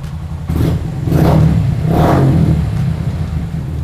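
Single-cylinder Suzuki Gixxer motorcycle fitted with a Zeus Hermes exhaust, revved in two or three rising bursts over a steady idle, loud and close with no talk.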